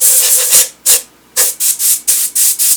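Short bursts of hissing spray onto woodturned wood repeat in quick succession, about eight pumps with brief pauses, close and fairly loud.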